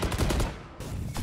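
Gunfire in the tactical shooter Valorant, a loud, close burst of rapid shots that stops briefly and then resumes, with no voices over it.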